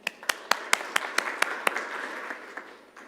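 Scattered clapping from a small conference audience: about a dozen separate, sharp claps in a loose, slowing rhythm over a faint murmur, thinning out to a few last claps.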